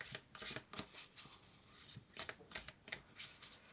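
Oracle cards being shuffled by hand, a quick irregular run of crisp riffling flutters, close and fairly soft, with no talking over them.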